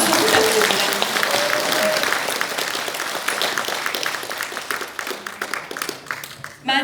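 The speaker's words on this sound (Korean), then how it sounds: "교수님께 다시 한번 큰 박수 부탁드립니다." Audience applause for a professor at a forum in the National Assembly Members' Office Building, dense clapping that starts loud and slowly thins toward the end, with a voice heard faintly over it.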